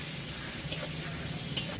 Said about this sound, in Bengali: এগুলো একটু নেড়ে চেড়ে ভেজে নিচ্ছি আগে।